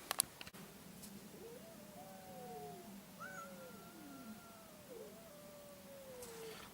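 A cat meows several times in long, wavering, drawn-out cries that rise and fall, close and fairly clear, over a steady low hum, with a couple of sharp clicks at the start.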